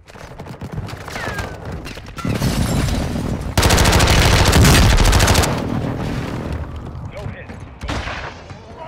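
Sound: gunfire shooting at the player in Call of Duty: Modern Warfare II video game

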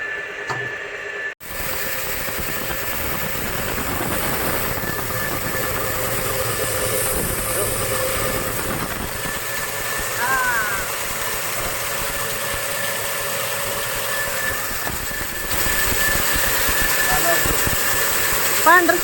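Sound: flour mill grinding soaked chickpeas

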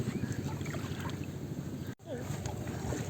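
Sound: boat moving through floodwater

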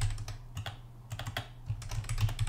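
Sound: typing on a keyboard

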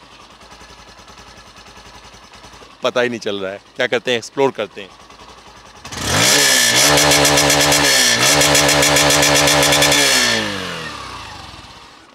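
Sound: 125cc motorcycle engine idling and revving

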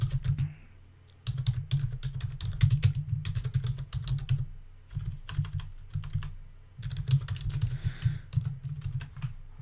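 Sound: typing notes on a computer keyboard

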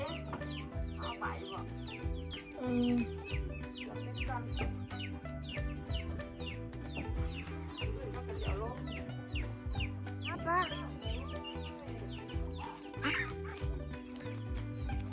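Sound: ducks and chickens clucking

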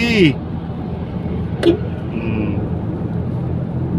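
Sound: motor grader on road construction site

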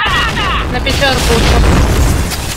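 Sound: grenade explosion in the video game Point Blank

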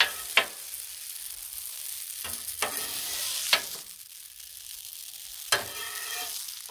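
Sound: shrimp scampi mixed and sizzling in a pan on a Blackstone griddle

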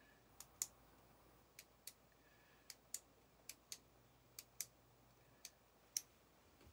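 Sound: clicking a pen

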